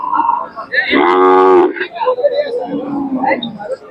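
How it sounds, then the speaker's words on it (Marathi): A Khillar bull at a cattle market gives one loud, close moo, with someone talking over it and crowd noise around. "म्हैसूर खिल्लर चांगला खोंड आहे"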